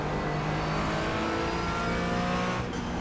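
A Porsche race car in a racing video game roars steadily at high revs, its engine drone loud and continuous with no speech, a brief shift near the end.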